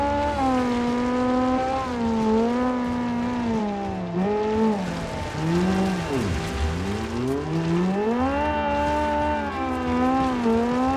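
Turbocharged rally car engine in the driving game BeamNG, a loud sustained engine note that holds steady, dips and climbs again with shifts and revs, with brief tire noise along the way and no talking.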